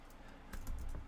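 Keys tapped on a computer keyboard at a desk, a short burst of several quick clicks that grows a little denser toward the end, close and fairly quiet with no voices over it.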